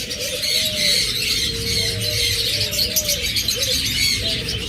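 Pigeons coo in soft, wavering calls over a constant background hiss, close by and continuous, with no one speaking.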